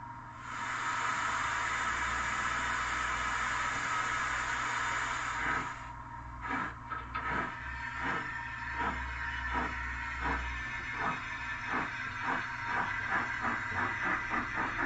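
A DCC-fitted model train locomotive, modelled on a late 1960s engine, runs on a model railway layout, giving a steady hiss that breaks into a rhythmic chuffing, close and fairly loud throughout.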